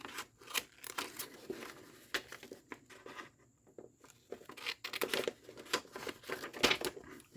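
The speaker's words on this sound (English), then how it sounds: "Trusty pair of scissors" Scissors snipping the corners of a handmade card, giving close, faint, irregular crisp cuts and paper rustles in a quiet room with no talk.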